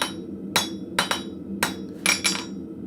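A blacksmith's hammer strikes hot metal at the forge, five or six sharp ringing blows at uneven spacing, some in quick pairs, close and fairly loud against a quiet shop background.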